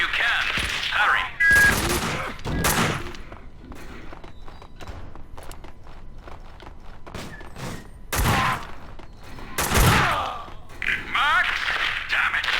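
Gunfire in the Max Payne 2 video game on Xbox comes in scattered loud bursts of shots and thuds among quieter stretches and footsteps.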